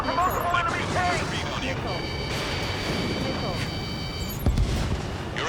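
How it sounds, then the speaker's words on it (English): Enemy tank cannon fire and explosions in the Ace Combat 7: Skies Unknown video game, a steady rumble of booming blasts and crackling gunfire under continuous radio chatter, with a sharper burst near the end. "We're taking fire from multiple enemy tanks!"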